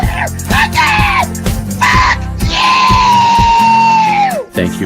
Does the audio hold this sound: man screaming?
yes